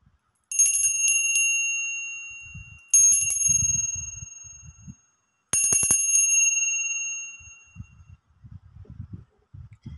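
Three bright bell strikes ring out, each with a long shimmering decay, spaced a couple of seconds apart, with faint low rumbles in between.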